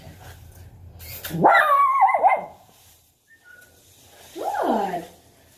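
A dog named Pip, a demo dog at a training class orientation, lets out two separate drawn-out, howling barks close by, with a quiet pause between them.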